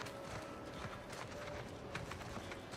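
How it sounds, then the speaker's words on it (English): Quiet, rapid robot horse hoof clip-clops in the video game Outer Worlds 2, with a faint mechanical edge, steady and soft, over a low background hum. "Is that a robo-horse?"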